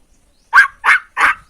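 A person imitates a dog barking with three quick, loud woofs in an even rhythm, spoken alone and close up during a playful animal-sound game.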